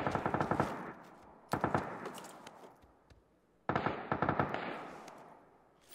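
Bursts of AKM automatic rifle fire in the PUBG video game: three loud, rapid strings of shots separated by short pauses, each trailing into a decaying echo.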